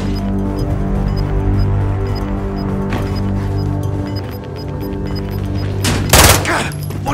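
Gunfire rattles through a Call of Duty Warzone match, PPSh bursts and a fusillade crackling over a constant low battle drone, ending in a sharp close blast.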